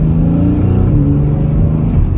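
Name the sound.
Mercedes S-Class car accelerating hard from a start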